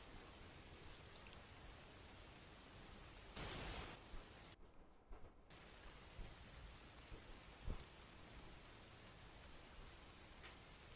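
Recorded rain noise plays steadily in the background as masking sound, a soft continuous hiss with a brief louder burst and a short dip partway through, and nobody speaks.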